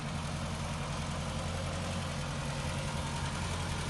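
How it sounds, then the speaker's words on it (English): A Mk1 Volkswagen Caddy engine runs at a steady, slightly raised idle to warm up, giving a continuous low rumble with a constant level throughout and no voices. "just slightly keep it as a constant rev, just to warm up the engine"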